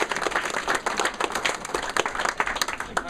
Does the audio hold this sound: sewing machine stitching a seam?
no